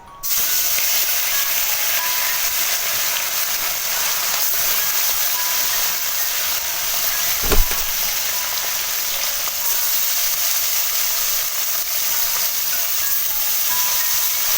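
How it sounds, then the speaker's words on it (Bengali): Bata fish fry in smoking-hot oil in a wok, a loud, steady, dense sizzle and hiss that runs throughout, with one brief clunk partway through. "এবার আমি বাটা মাছগুলো ভেজে নেব"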